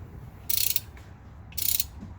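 Wrench loosening the rear differential drain plug on a Mercedes-AMG 63 with the M177 engine and 4matic: two short bursts of ratcheting clicks, close and fairly loud, separated by a quiet pause.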